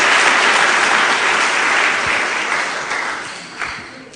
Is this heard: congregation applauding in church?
yes